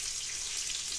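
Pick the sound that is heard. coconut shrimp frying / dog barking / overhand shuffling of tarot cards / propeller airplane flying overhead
coconut shrimp frying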